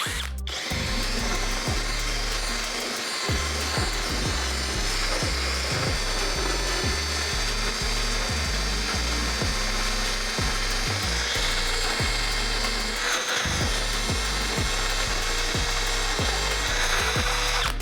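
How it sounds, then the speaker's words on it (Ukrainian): A Dnipro-M CD-200BC drill bores into wood with a 20 mm Forstner bit at high speed, a loud whining grind broken by repeated short pauses and restarts as the bit bites and cuts. "Розпочну зі сверла Форснера 20 мм, швидкості дам побільше."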